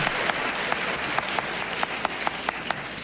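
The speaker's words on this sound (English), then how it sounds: "The guy's clapping." Claps from one person ring out in a slow, uneven rhythm, about a dozen sharp slaps over a dense, steady applause-like wash of noise in a debate audience.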